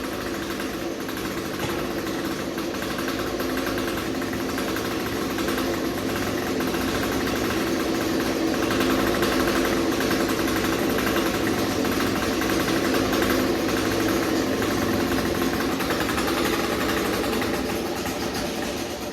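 Small lawn equipment engines run on choke while being winterized, giving a steady, loud, close mechanical drone with rattling vibration that holds without a break for the full length.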